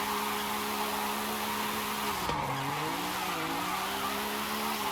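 A small car drifting in the video game Forza Horizon, tires squealing in a steady high whine over a droning engine note that dips and bends in pitch midway, loud and continuous with no talk.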